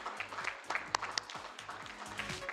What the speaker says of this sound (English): Let's have a huge round of applause for Namya Foods.